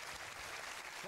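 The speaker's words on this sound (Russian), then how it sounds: "Что ж, аплодисменты Йену Грэттону" A TV quiz show studio audience applauds: dense, steady clapping fills the whole short stretch at an even level, with a voice starting to rise over it near the end.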